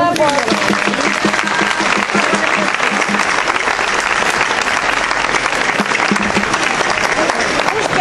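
Audience at a folk festival gives a loud, sustained round of applause, dense continuous clapping from a large crowd lasting the whole stretch, with some voices mixed in.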